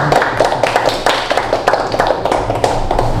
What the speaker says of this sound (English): Now you can clap while I go to the next roll.